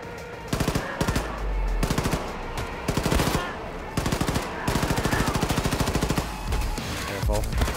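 Rapid SMG gunfire from the video game Wolfenstein 2 rattles in repeated close, loud bursts separated by short pauses.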